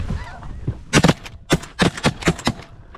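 Shotguns fire at flying snow geese in a Saskatchewan field, with several sharp, loud blasts in quick clusters and honking geese audible between the shots.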